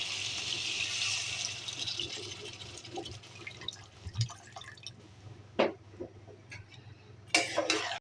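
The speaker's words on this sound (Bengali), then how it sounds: "আমি এখন পানি দিয়ে দিব পরিমাণ মতো" Water is poured into a cooking pot of chicken gizzard, liver, potato and cabbage curry: a steady, close hiss of pouring at first, giving way to scattered drips and light clinks of pot and utensils, with no talk.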